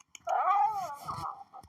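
A pet cat named in the home gives a drawn-out, wavering meow close by, loud and alone, ending with a short second call.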